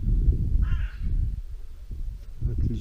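A crow caws near a lakeside float-fishing spot, a short burst of harsh calls over low rumbling wind and handling noise close to the microphone.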